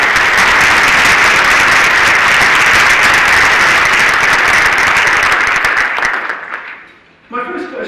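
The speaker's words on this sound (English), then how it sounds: "Let's give them a round of applause." Loud sustained audience applause at a corporate leadership panel event, dense clapping that fades out near the end before a voice begins speaking.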